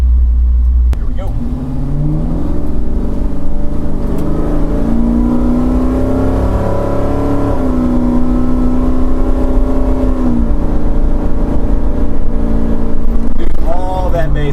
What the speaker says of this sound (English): A lot of the bass has been taken out of the exhaust note.